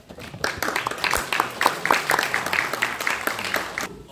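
An audience at a theology forum claps to welcome two speakers to the front, a short burst of brisk, fairly close applause with irregular sharp claps that starts quickly and carries to the end.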